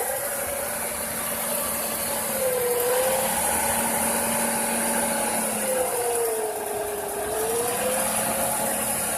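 Engine noise from a Buick Century, heard from underneath the car: a steady loud running hum with a faint tonal whine that wavers slightly up and down, with no talking.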